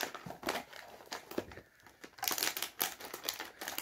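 A snack bag of chocolate-dipped crispy corn puffs is opened and handled, giving repeated crinkling and rustling bursts of plastic packaging at close range, with no talking.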